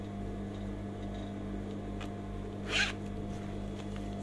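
The zipper on a handmade men's bag is pulled in one short, quick zip partway through, heard close against a constant low electrical hum, with no speech.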